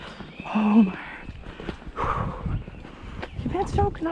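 A horse at a cross-country training event whinnies, and its hooves clip-clop on the ground. The sounds are close and loud, and a rider talks over them.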